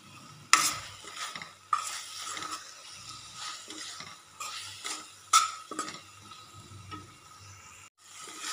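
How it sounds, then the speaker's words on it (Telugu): A spoon scrapes and clatters around a pan of frying tomato and chili, with intermittent sharp stirring knocks over a low sizzle and no talking. "ఇంకొక నిమిషం పాటు ఇట్లా కలిపేసుకొని"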